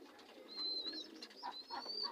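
Pigeons and their chicks make faint, thin high peeps and soft calls, a few brief overlapping notes heard close but quietly against a light background hum.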